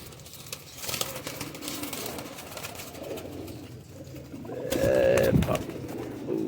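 Domestic pigeons of a bred flying strain in a loft coo in soft repeated phrases, with a louder burst near the end amid faint rustling and background noise.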